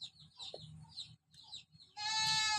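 A goat bleats up close, a loud wavering cry near the end, following softer clucking and snuffling animal sounds from the livestock around it, without talk.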